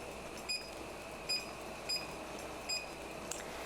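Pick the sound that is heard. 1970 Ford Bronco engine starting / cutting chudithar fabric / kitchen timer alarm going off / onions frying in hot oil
kitchen timer alarm going off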